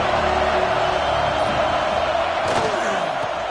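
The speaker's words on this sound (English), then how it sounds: "This crowd ready to make its presence known." A college football stadium crowd at a Ducks vs Irish game roars in a loud, steady wall of cheering, with a brief sharp impact partway through.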